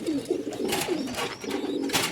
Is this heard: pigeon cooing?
yes